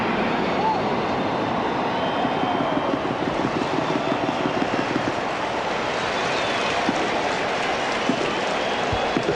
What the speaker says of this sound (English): And listen to this crowd here this afternoon.